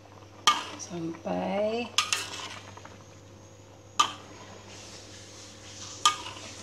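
Spoon scraping and clinking against a pan while Minang sambalado tanak, a chili sauce, is stirred, with a few sharp metallic knocks spaced apart over a steady low hum and a brief spoken word.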